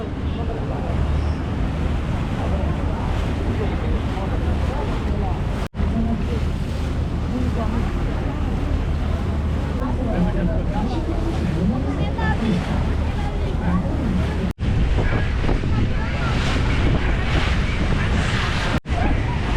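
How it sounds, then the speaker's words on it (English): A crowded tourist boat cruises along the Seine in Paris. A steady low engine rumble mixes with wind buffeting the microphone and rushing water, and the sound is continuous and loud throughout. "That's crazy how many people they're letting on this boat."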